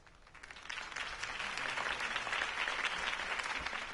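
A crowd in Batman: The Telltale Series applauds after a campaign speech, the clapping swelling quickly from a quieter start into sustained, dense applause.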